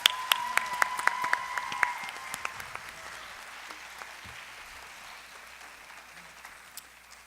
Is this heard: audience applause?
yes